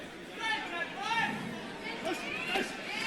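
A vocal crowd at a Demsey McKean heavyweight boxing bout keeps up a steady roar of chatter and cheering, with a voice talking over it throughout.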